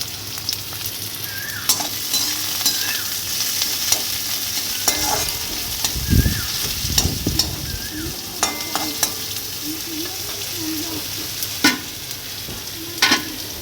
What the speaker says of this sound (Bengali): এখানে গাজর পেঁয়াজ বটবটি সব ভেজে নিচ্ছি